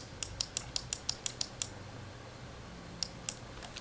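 Playing cards snap in a quick, even series of crisp clicks, then a short pause and two more, all fairly quiet against a hushed room.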